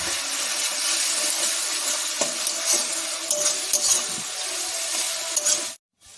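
Browned onions fry with garlic paste for a Bengali-style chicken curry, a continuous close sizzle broken by spatula scrapes and pan knocks, ending abruptly in silence.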